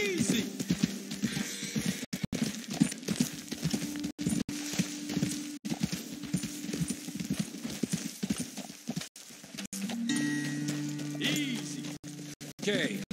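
Rhythmic clip-clop of horse hooves in Red Dead Redemption 2 trots steadily on a hard surface, close and continuous, with a brief change in the ambience near the end.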